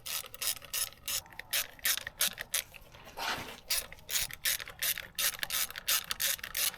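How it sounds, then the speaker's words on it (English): A ratchet clicks rapidly and close up in repeated bursts while bolts are tightened in a cross pattern during a first service on a 2024 Honda Pioneer 1000-5, with brief pauses between strokes. "Start your bolts by hand. Let's tighten them all evenly in a cross pattern."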